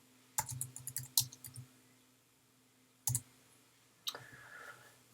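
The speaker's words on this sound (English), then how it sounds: "use your backspace." Sharp computer keyboard key presses while editing titles in Final Cut Pro: a quick cluster of clicks, then a single tap, then another short burst, close and fairly quiet in a still room.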